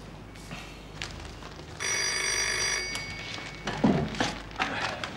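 A telephone bell rings in one sustained burst of about a second, steady and fairly loud against a quiet room, with some faint thumps and movement around it, in a 1990 German crime drama setting.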